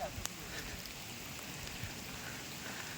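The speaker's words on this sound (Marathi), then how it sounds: "त्यात पाऊस पण आहे." Rain falls steadily on a mountain trek to Mahipatgad, a soft continuous hiss with a few louder drops, fairly quiet and even throughout the short stretch.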